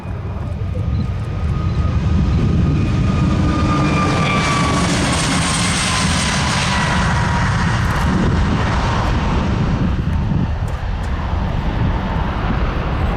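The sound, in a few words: Airbus airliner taking off at an airshow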